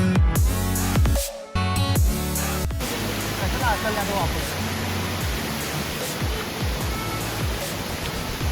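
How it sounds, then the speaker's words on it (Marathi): A waterfall at Raigad Fort, a misty hill fort, roars with a loud, steady rush of falling water. A short tonal burst, like music or voices, opens before the roar takes over. "तर असा धबधबा"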